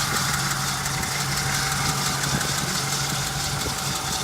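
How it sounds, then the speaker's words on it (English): A 1939 Pontiac Eight engine idles steadily up close with a faint, regular tapping running through the low rumble, with no voices. "A small little tapping noise there."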